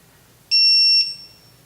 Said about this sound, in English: tightening till the torque wrench gives us the signal